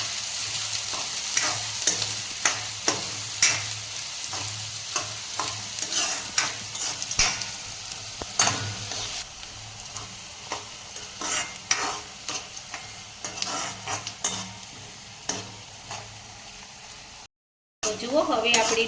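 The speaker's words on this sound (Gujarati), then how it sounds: "હવે આપણી ડુંગળી સતરાઈ ગઈ છે" Chopped onions with black pepper and two cloves fry and sizzle in a pan, stirred with repeated scraping strokes of a spoon, a steady close crackle broken by sharp stirring clicks, with a voice talking over it.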